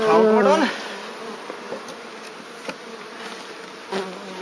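Honey bees hum and buzz while package bees are hived in Donegal, a dense, steady drone close by, with a brief whistling tone at the start and a few soft knocks of hive gear.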